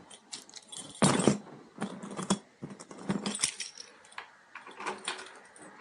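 A ring of keys jangles in one hand while someone picks out the right one in a garage beside a Shovelhead motorcycle, giving irregular bursts of close metallic clinks and rattles with brief quiet gaps.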